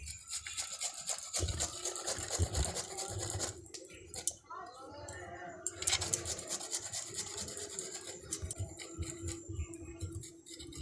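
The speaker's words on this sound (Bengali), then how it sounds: "আদা ঘষে নেব।" Fresh ginger is rubbed against a kitchen grater while making papaya pakoras, producing a continuous close rasping scrape with quick back-and-forth strokes that vary slightly in pace and intensity.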